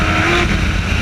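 A Radical SR3 race car, driven in onboard hot laps around the Nürburgring Nordschleife, gives a loud, close engine note whose revs rise briefly and sharply.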